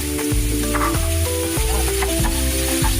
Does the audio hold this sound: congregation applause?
no